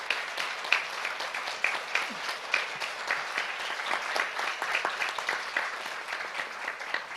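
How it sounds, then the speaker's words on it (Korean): An audience at the 2022 Jeju Forum session breaks into sustained applause, dense overlapping hand claps filling a large hall and continuing steadily for several seconds without speech. "한번 큰 박수 부탁드리겠습니다"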